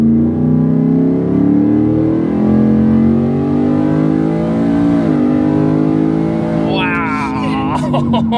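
A modified Ford F-150 truck with over 700 hp accelerates hard, its engine roaring loud and steady up close from inside the cab, pitch climbing through the run before shifting near the end, with occasional voices over it.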